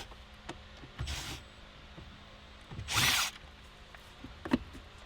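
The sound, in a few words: power drill with Phillips tip removing screws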